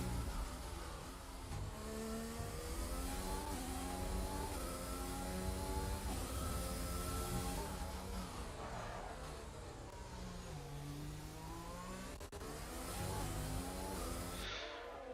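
F1 car in the F1 2020 video game at Suzuka's Japanese GP, pulling smoothly out of the hairpin exit, its engine note climbing in steady rising sweeps, loud and close throughout with a second car's engine layered underneath.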